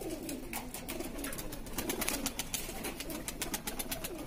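A Madrasi and Rampuri cross-bred pigeon coos close by in repeated soft, throaty rolling calls, with faint background noise under them.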